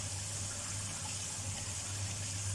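Bulgur is rinsed in a kitchen under steady running tap water, a constant close hiss and gush with a low hum beneath and no talk.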